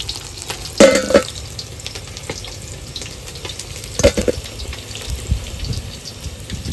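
Fish fries in oil at an outdoor rainy-day picnic, a low steady sizzle punctuated by a couple of louder clatters and splashy handling sounds, with no talking.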